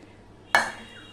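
Potatoes tipped into a pot of simmering Bengali mutton curry, one sudden splashing thud that trails off into a soft wet settling, heard close and alone.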